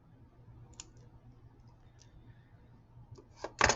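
Jewelry wire trimmed with cutters just after a crimp tube is closed: a few faint clicks of handling, then one sharp, close snip near the end.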